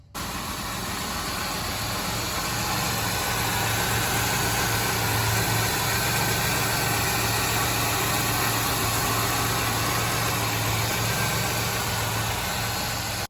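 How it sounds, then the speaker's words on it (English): A Buick 3800 V6 with over 454,000 miles idles steadily under the hood, a continuous low hum and mechanical drone that holds even and unbroken throughout, with no talking. "under the hood, the old 3800 motor still ticking away"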